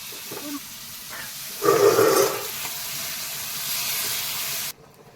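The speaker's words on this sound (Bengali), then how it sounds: "কড়াইয়ে চিকেন দিয়ে দিয়েছে," Chicken frying in a wok gives a hissing sizzle that swells sharply for a moment, then settles into a steady softer hiss before cutting off, with no one talking.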